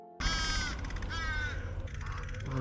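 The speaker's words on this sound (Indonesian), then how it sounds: "ia tak sengaja melihat sebuah gagak yang ternyata tengah menggerogoti jasad Victoria" A crow caws loudly and close several times in hoarse, harsh calls over a steady low background rumble.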